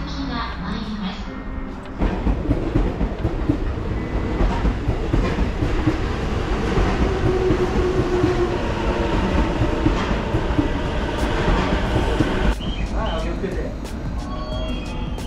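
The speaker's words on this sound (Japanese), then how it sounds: "まもなく1番線に各駅停車八王子行きが参ります。" A local train rolls into a Japanese station with rumbling wheels and rhythmic clatter, loud and close, while a platform announcement voice in Japanese speaks over it.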